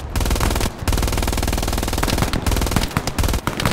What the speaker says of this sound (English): I have a machine gun in the building as well.